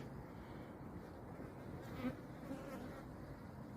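Native honeybees buzzing at hives on a cliffside by a riverside mountain, a faint steady hum of many insects throughout.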